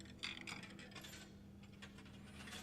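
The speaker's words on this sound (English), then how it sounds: "I am awakened at the sound of a dropping coin" A coin dropping into a fortune-teller machine in the video game Blue Prince, giving a quick metallic clink followed by soft ratcheting mechanical whirring and clicking gears, faint and close with no voices.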